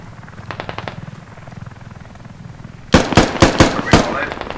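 Gunfire in the video game Squad: a quieter, rapid burst in the distance first, then loud, close sharp shots in quick succession near the end, set over a steady mechanical rumble.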